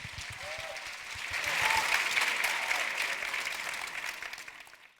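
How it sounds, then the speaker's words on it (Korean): An audience applauds steadily to welcome the first team onstage at a soldiers' and youth security vision presentation contest, the clapping swelling in the middle and fading toward the end. "큰 박수로 환영해 주십시오."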